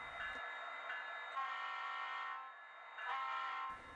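An Athearn Norfolk Southern SD60E model locomotive, running on DCC with factory decoder settings, sounds its bell as a steady metallic ringing tone that swells and dips in regular pulses, with no voices.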